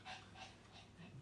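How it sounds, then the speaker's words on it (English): Soft, rhythmic breathy snores from a dog, three or four slow cycles close by and fairly quiet, with no talking. "you can hear my dog snore also from there"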